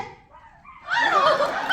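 A concert crowd of fans at a stage greeting shouts a loud, ragged dog-bark imitation together, voices swelling after a short count-in.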